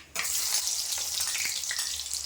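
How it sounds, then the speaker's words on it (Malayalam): Shallots hit hot oil just after mustard seeds have popped, setting off a sudden loud, continuous hiss of frying that stays strong and close for the whole short stretch, with no speech. "കടുക് പൊട്ടി ഇനി ഞാൻ ചുമന്നുള്ളി ഇട്ടിട്ട്"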